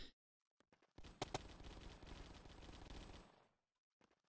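Gunfire in the video game Brick-Force: after a few faint clicks, a dense burst of rapid automatic shots lasts about two and a half seconds, then stops, leaving quiet with one faint pop.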